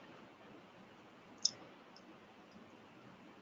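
One faint, sharp click of a computer mouse, a right-click on an otherwise near-silent desk.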